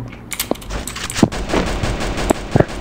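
Gunfire in the Free Fire video game: a scattered run of sharp shots and short bursts, some close and punchy, others lighter, spaced irregularly over a busy mechanical background.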